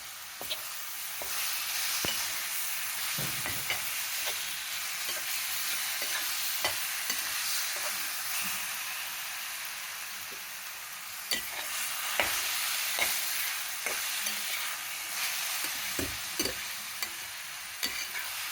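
Ash gourd halwa mixture fries on a low flame with a steady soft sizzle, broken by repeated clicks and scrapes of stirring throughout, with no voices.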